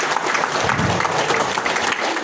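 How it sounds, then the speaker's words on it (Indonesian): Brief burst of audience clapping at a BIMA627 support system meeting, a short, fairly loud wash of applause from a crowd lasting only a couple of seconds. "Tepuk tangan dulu."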